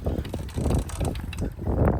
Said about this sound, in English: That noise is pretty much just roller down here.